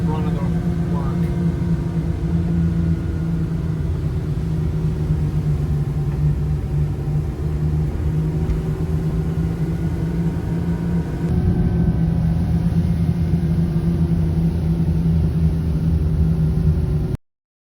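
Camper van descending Vermont's steep Skyline Drive under engine braking, a steady loud low drone of engine and road rumble throughout, stepping slightly louder near the end before cutting off.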